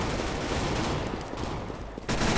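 Rapid pistol fire from a USP in the video game CS:GO, dense continuous bursts of shots close and loud, ending in a short gap before firing resumes.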